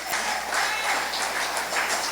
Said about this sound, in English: Give Team Unity a round of applause.